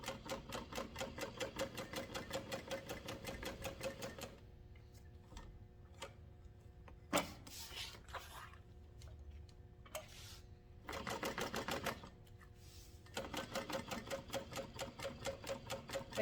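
A sewing machine top stitches a tote bag at 1/8 inch, with clear rhythmic stitching in several runs broken by quieter pauses filled with clicks and fabric handling, ending with a fresh burst of steady stitching.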